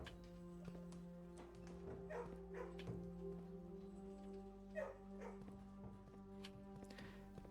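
Puppies in the kennel room of the video game Blue Prince, soft scattered yips and little whimpers over a steady musical drone, faint and fairly sparse.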